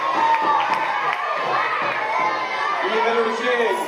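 Crowd cheering and clapping for quiz contestants at a live Sant Josep knowledge competition, a dense, steady roar of voices and applause with excited shouts throughout.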